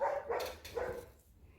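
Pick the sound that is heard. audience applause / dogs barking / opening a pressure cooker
dogs barking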